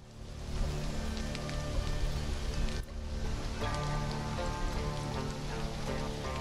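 Steady rain in the alien-world survival game Stranded: Alien Dawn patters continuously and fairly loudly, a dense hiss of drops with a brief dip partway through, heard without talk.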